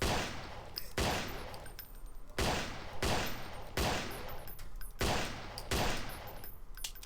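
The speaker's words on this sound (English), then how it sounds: "we need to headshot all the zombies" Gunfire from a zombie-shooting video game level set in a swamp: loud repeated volleys of shots, with bursts roughly every second for several seconds, close and steady with no talk.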